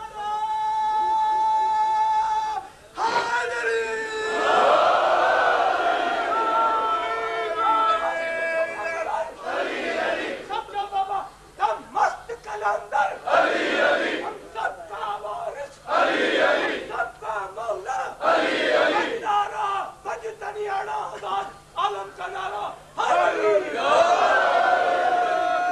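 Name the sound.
crowd chanting a slogan at a religious gathering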